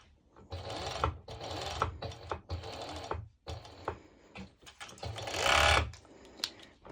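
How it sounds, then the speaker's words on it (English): Serger overlocking a fabric edge while sewing a one-shoulder twisted knot top, rapid close mechanical whirring in several bursts separated by short pauses, with a louder run near the end. "I will just actually serge it straight over."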